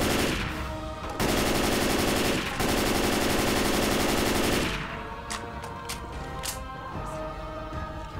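Rapid automatic gunfire from Left 4 Dead 2 rattles in a long, loud, sustained burst, then drops to a lower in-game backdrop of scattered sharp cracks.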